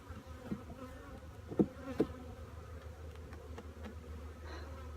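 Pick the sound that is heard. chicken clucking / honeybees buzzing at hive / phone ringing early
honeybees buzzing at hive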